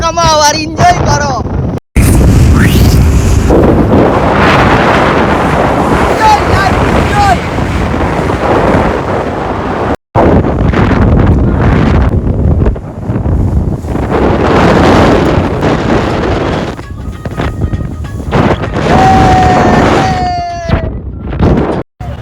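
A boat ride on the Arabian Sea, with strong gusting wind battering the microphone and a steady rush of water and engine underneath. Voices shout and talk over it, and there are a few brief dropouts.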